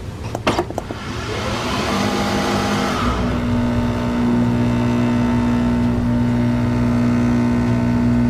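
A Nespresso VertuoPlus coffee machine running its cleaning cycle: a brief rattle and click, then a steady loud motor hum with a sustained pump whine that holds on without a break, close by and with no talking.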